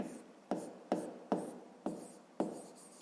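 Pen or chalk writing out a fraction comparison for a fifth-grade math exercise, six short scratchy strokes at a steady rhythm, close and fairly quiet, with no voices.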